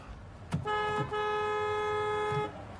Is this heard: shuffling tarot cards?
no